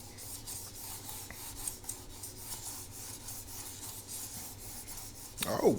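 Mouse skates sliding on a Pulsar Superglide 2 glass mousepad, a quiet repetitive rasping scrape with faint gritty dust, steady back-and-forth strokes up close, ending in a brief louder bump.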